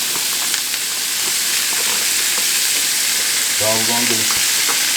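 Vegetables for a chicken cacciatore sauté in a pan over medium-low heat, giving a steady close sizzle and hiss throughout, with a brief harmonic tone near the end and a voice speaking at the start.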